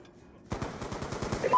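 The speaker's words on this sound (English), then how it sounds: "He's just shooting through the wall." Rapid automatic gunfire in a video game as an enemy shoots through a wall, a quick burst of shots starting abruptly after a brief quiet moment and continuing to the end.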